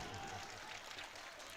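Audience applause at a poetry mushaira, a steady wash of many hands clapping in a hall, faint and distant, with voices murmuring underneath.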